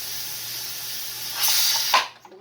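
Steam hisses steadily from the 10-pound weight of a pressure canner on a stovetop at high heat, swelling louder near the end before cutting off abruptly.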